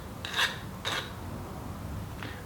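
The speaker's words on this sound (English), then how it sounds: "all I've done is deburred the outer edge, and just deburr the inner edge" A hand file rasps across the inner edge of a steel pipe offcut while deburring it: two short, firm strokes close together near the start, then a fainter third stroke, with quiet room tone between.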